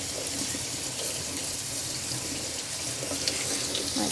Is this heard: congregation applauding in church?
no